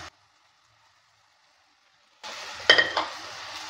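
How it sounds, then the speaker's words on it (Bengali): Washed semai vermicelli tipped into a pan and stirred, giving a short burst of sizzling and clattering scrapes after a long quiet pause, close and moderately loud. "সেওইটা দেওয়ার পর ভালো করে নেড়ে চেড়ে নিচ্ছি"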